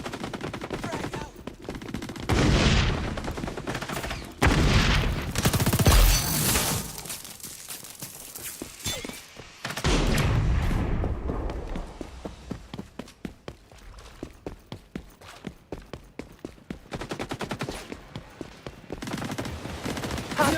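Grenade blast followed by sustained automatic gunfire in the XDefiant shooter game, loud bursts early on giving way to rapid, evenly spaced shots through the second half, with no talking.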